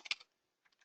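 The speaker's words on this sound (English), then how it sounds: "These are my Monday morning typing skills." Short burst of computer keyboard typing while entering an address into a form, a quick cluster of clicks followed by a pause and a few lighter keystrokes, close and quiet with no talking.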